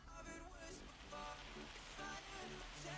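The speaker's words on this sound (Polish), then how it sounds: "Znowu deszczyk pada." Steady, dense rain falling in Farming Simulator 25, a continuous hiss filling the whole moment, with someone speaking over it throughout.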